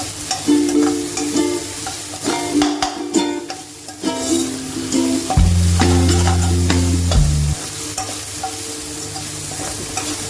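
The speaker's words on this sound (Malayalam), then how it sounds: "സവാള ഒന്ന് വഴണ്ട് വന്നു കഴിഞ്ഞപ്പോൾ വെളുത്തുള്ളിയും ഇഞ്ചിയും പച്ചമുളകും കൂടി ചതച്ച് ഞാൻ ഇതിൽ ചേർത്തിട്ടുണ്ടായിരുന്നു" Onion, crushed garlic, ginger and green chili sauté in a pan with a continuous close sizzle, broken by repeated spatula scrapes and taps; a steady tonal hum runs underneath.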